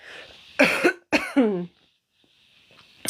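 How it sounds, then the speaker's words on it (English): Two harsh coughs close together, loud and near, followed by quiet with faint background noise. "human's going to cough again."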